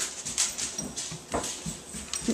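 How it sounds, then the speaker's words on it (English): Soft, high-pitched whimpers from wet, snowy puppies come in short bursts, with some panting and light movement close by. "come here, you wet, snowy dogs"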